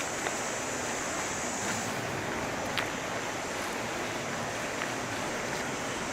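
A small stream runs alongside a canal near a lock, giving a continuous, even rush of flowing water with faint wind noise and no voices.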